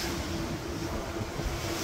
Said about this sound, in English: The ocean's actually really loud